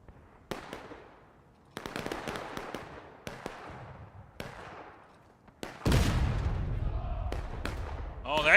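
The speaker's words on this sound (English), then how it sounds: "Oh, that cannon shot got him." Cannon fire in the Civil War game War of Rights booms out repeatedly, several sharp distant blasts with rolling decay spaced a second or so apart, then heavier close rumbling toward the end.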